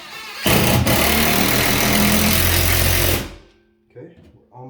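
A power drill bores a small hole while a TV mount is installed, running loud and steady for about three seconds before stopping, followed by brief handling noises.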